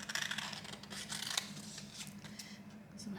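Scissors cutting out a paper feather, with quiet close snips and paper rustling at a low level throughout.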